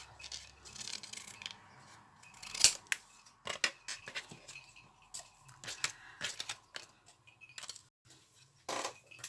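Scissors snipping paper for a handmade traveler's notebook, a run of short, crisp cuts and clicks spread across the clip against a quiet room, fairly close and moderately soft.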